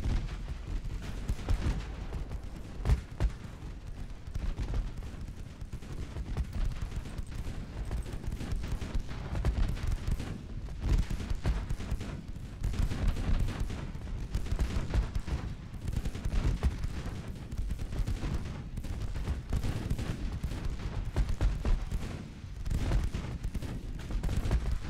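Naval gunfire from battleships in the warship game Ultimate Admiral Dreadnoughts, a dense, continuous rumble of heavy booms and overlapping blasts rolling steadily throughout, loud and without talk.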